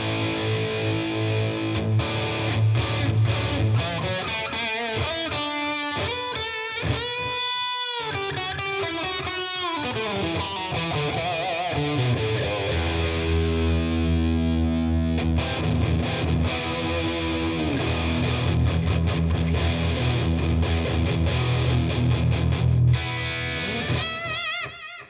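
A Fender Mustang GTX50 guitar amp on its Boosted Brit 70s British amp preset, with continuous overdriven electric guitar chords and riffs played loud and up close, steady and sustained throughout with no talking.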